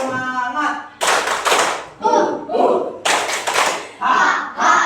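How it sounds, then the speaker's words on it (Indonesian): A school class performs a rhythmic spirit clap, bursts of unison hand claps alternating with chanted voices in a steady repeating pattern, loud and close throughout. "Biar tepuk semangat lagi"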